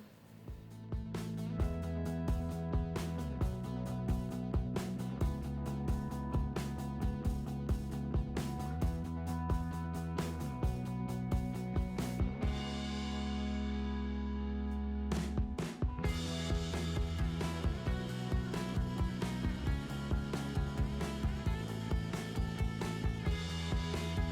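A sewing machine runs in fast, even bursts of mechanical stitching, pausing briefly midway before resuming its rapid, steady rattle.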